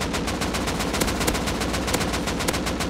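Rapid gunfire from the video game Rust, a dense run of sharp repeated shots at a steady fast rhythm, loud and close, with no speech over it.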